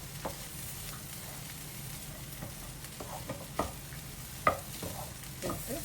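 Onions sautéing with sambar powder in a pan for small-onion sambar, a steady soft sizzle broken by a few sharp scrapes and knocks of a spoon stirring against the pan.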